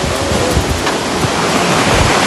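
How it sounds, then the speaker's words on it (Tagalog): Sea waves washing onto a beach, a loud continuous rushing surf noise close by, alone without voices. "Tapos pakita natin yung alon."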